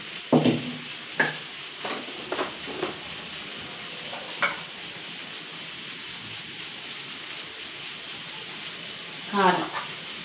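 Food frying in a home pan with salt and spices added, a steady soft sizzle running underneath, with a few brief clinks and stirring scrapes scattered across it.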